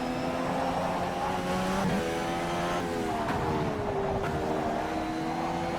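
An Indycar engine at Laguna Seca in a racing video game screams through rising and falling revs with sharp downshifts and brief tire lock-up, loud and continuous with no talk.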